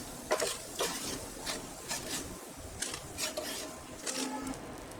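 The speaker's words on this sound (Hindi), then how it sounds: "कबाब दोनों तरफ से सिक चुका है तो अब हम इसे एक प्लेट में निकाल लेंगे।" Kebabs made from raw banana are lifted out of a frying pan onto a plate, with close metal scraping, clinking and rubbing of a utensil against the pan in short, irregular bursts and no voices.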